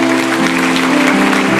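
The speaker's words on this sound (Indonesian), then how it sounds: "Yang percaya kasih tepuk tangan untuk Tuhan." A congregation applauds for God during a Christmas sermon, a short loud burst of clapping sounding over a sustained musical tone in a large worship hall.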